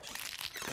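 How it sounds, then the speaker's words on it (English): Crunching from extra-crunchy peanut butter smeared on a closing door, a short dense burst of gritty crackling and crinkling that stays steady and fairly loud throughout, with no voices. "What is that crunching noise?"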